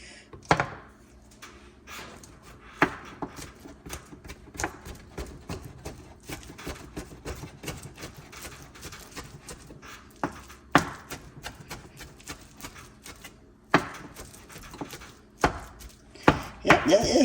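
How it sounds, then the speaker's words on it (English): Knife chopping spinach on a cutting board: dense runs of quick, close taps with a few louder thumps, steady throughout with short pauses and no talking. "Let me chop it up one more time. I don't think you can get finer than this."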